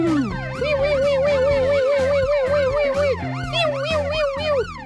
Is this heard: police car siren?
yes